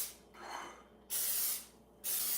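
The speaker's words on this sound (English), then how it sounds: "I'm using some coconut oil spray" A can of coconut oil spray hisses into a cake pan for a tofu cheesecake in two short, sharp bursts after a softer, muffled spritz, each burst loud and close.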